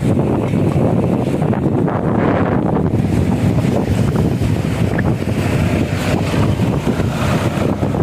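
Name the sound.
strong storm wind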